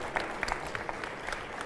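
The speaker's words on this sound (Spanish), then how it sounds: "¡Un aplauso! ¡Un aplauso!" Applause from an audience at a science hackathon final, a short burst of scattered, moderately distant clapping.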